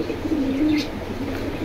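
Pigeons coo at a pigeon market in Jinjira Bazar, a soft, low throaty coo rising over a busy background murmur, close by.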